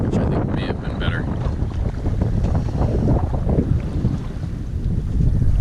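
Strong wind roars across a sailboat at sea, a constant rushing buffet on the microphone with water sloshing beneath and a faint voice briefly audible.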